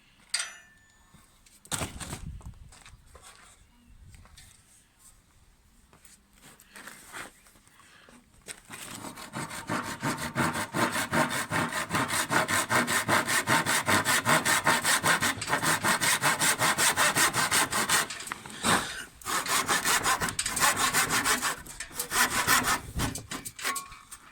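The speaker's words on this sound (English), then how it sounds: "so I'll get the tenon saw" A tenon saw cuts through a kitchen worktop, starting with a few light strokes and knocks, then settling into a long, loud, rhythmic back-and-forth sawing close by.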